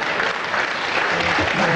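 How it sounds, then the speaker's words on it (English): Studio audience applause on a British comedy sports panel show, a sustained even wash of clapping from a crowd, with a voice faintly mixed in beneath it. "thank you, that's a nice easy round of applause"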